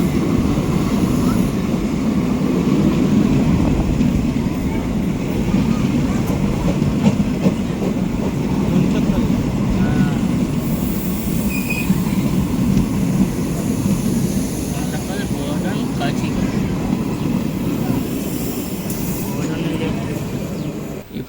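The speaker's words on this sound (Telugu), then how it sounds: "ఇప్పుడే ఒక రైలు వెళుతోంది ఇది కుంతకల్ బోధన్ వైపు వెళ్ళే రైలు" A passenger train rolls past at Masaipet station, a steady loud rumble of wheels and carriages that fills the whole stretch without letup, with faint voices from a waiting train mixed in.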